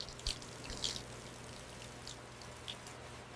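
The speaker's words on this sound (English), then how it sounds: "Powerful jets wash away the soap and remaining dirt." Powerful water jets rinse recycled plastic lifebuoys on a washing line, a steady dense hiss and patter of spray with occasional sharper splashes, close and continuous without any voices.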